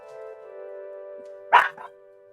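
Dogs in a video game, heard as a single sharp bark followed by a quieter yip, cutting over a steady low tonal drone, with no talking.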